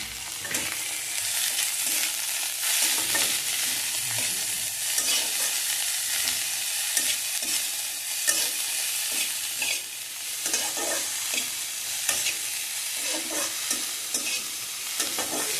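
Drumstick (sajna) flowers fry gently in oil in a pan over a low flame for a Bengali aloo posto dish, with a continuous close sizzle broken by frequent scraping stirs.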